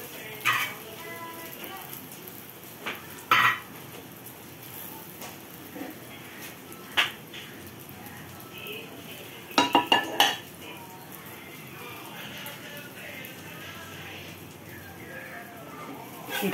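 Omelette being turned over in a pan for lunch, heard as scattered metallic clinks and scrapes of a utensil against cookware, with a tight cluster of sharp knocks in the middle over a low steady room hum.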